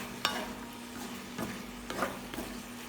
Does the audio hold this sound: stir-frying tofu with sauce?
yes